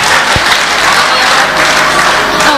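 Guests at a restaurant family celebration applaud, producing a steady, dense wash of clapping that holds at an even, fairly loud level throughout without any break.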